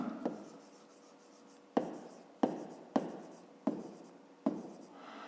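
A pen writes on paper for a school maths exercise, giving a series of short scratchy strokes, each starting sharply and fading, about six in a row, close and alone.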